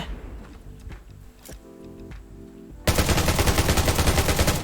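Rapid automatic gunfire in the survival shooter game Undawn: quieter in-game ambience with faint thuds gives way to a loud, sustained burst of fast, evenly spaced shots that runs to the end.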